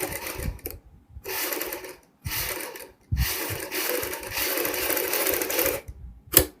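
A sewing machine stitching a patch onto a kurti, running close and loud in several short bursts broken by brief stops.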